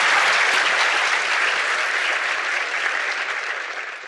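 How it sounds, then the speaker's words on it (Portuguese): Audience applause for a speaker at the Front In Sampa 2019 front-end conference in São Paulo: dense, sustained clapping from a full room, loud and steady before tapering slightly toward the end. "uma salva de palmas ao Hugo de novo"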